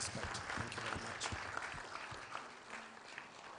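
An audience at a regional sport congress applauds steadily, a dense clatter of many hands that stays even throughout and sounds somewhat distant in the hall.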